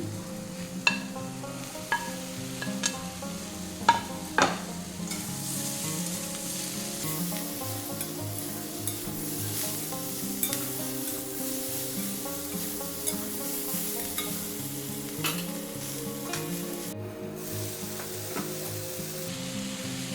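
Ridge gourd is stir-fried in a pan for a water spinach dish, giving a continuous hiss of sizzling oil punctuated by sharp clinks and scrapes of a spatula against the pan.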